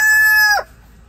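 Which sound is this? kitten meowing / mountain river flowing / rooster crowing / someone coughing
rooster crowing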